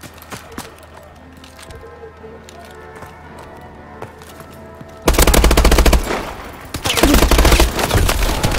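Gunfire in a video game: scattered single shots at first, then loud, rapid automatic bursts that dominate the second half, close and continuous.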